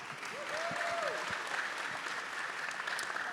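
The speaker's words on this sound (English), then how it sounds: "let's go ahead and give them a round of applause" An audience at a peace prize award ceremony breaks into applause, a steady wash of clapping that swells after a brief voice at the start and continues to the end.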